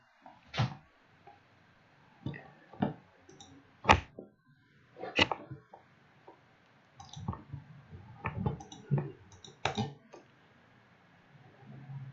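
Computer keyboard keys clicked in a quiet room, sparse irregular taps and short clusters of keystrokes, close and fairly soft.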